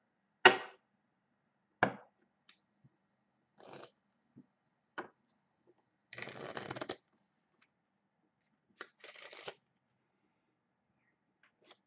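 A Magic: The Gathering card deck being shuffled and handled in short, quiet bursts of riffling and tapping separated by silences, close by and with no talking.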